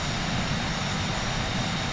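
A fixed-wing aircraft sits on the runway at La Paz, Bolivia, in Flight Simulator X, its engine giving a steady, loud, broadband roar with no voices.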